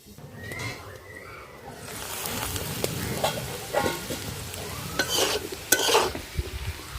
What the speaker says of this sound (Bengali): আলু ভাজা হয়ে গেছে, নামিয়ে নেব।